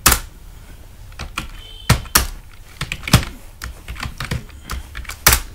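Typing on a computer keyboard at close range, with irregular bursts of sharp key clicks and a few heavier thumps, like a key press or the space bar, across several seconds with no voices.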